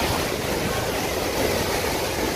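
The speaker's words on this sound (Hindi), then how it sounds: "क्या लहरें आ रही है" Ocean waves on the beach at Somnath in Saurashtra, a broad steady surf roar filling the whole clip with no clear break between swells.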